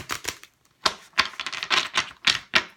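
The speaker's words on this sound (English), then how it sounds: "I'm just going to shuffle through these just to ensure that we have it well mixed." Tarot cards from a Universal Waite deck being shuffled close up, a series of quick crisp riffling flicks and taps in short bursts, with no talking.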